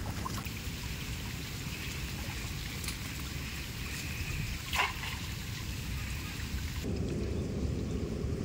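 Heavy monsoon rain pours over a tidal creek in a steady, dense hiss with a brief louder swell midway and no voices.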